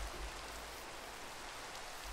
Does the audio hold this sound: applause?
no